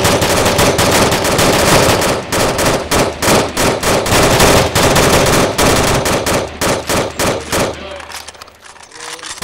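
Machine gun fire on Spetz island, loud rapid bursts of shots in a dense rhythmic rattle that thins into separated shots before stopping, close and dominant.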